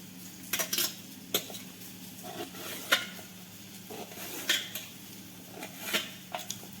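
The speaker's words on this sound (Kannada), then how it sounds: "ಈ ರೀತಿ ಸಪ್ರೇಟಾಗಿ ಪೀಸ್ ಮಾಡ್ಕೋಬೇಕು." Okra being cut into pieces with a knife on a kitchen surface: sharp, separate clicks and taps every half second or so, close and clear over a low steady hum.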